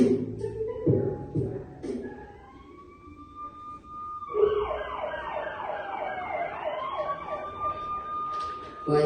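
A police car siren wails in rising and falling sweeps, first mixed with other sounds, then loud and clear with overlapping tones for several seconds, without any talk.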